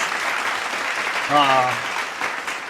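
Brief scattered clapping sounds throughout, with a short spoken voice breaking in over it partway through.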